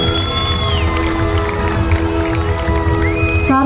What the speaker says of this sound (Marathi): एकदा जोरदार आणि मनापासून हक्काच्या टाळ्या झाला पाहिजे आमच्या ह्या हिरांसाठी